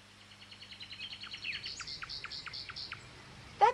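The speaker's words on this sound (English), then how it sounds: "That bird's been singing all afternoon." A nightingale sings alone in a rapid series of bright, repeated chirps and trills, steady and fairly close, with a sharp louder call at the very end.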